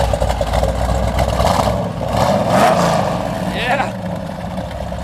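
A 1972 Chevrolet Corvette's engine fires up and settles into a loud, rapid rumbling idle close by, with revs swelling midway and a brief spoken word over it.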